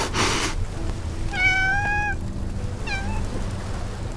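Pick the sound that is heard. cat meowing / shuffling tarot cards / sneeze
cat meowing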